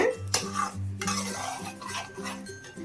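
Water is added and stirred into a pot of Tamil egg gravy (muttai kulambu), with close metallic scraping and clinking of a spoon against the pot in a steady rhythm and a faint sizzle underneath.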